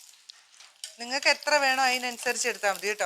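Dried red chilies frying in hot coconut oil give a soft, steady sizzle, heard alone briefly and then under a person talking close by for most of the clip.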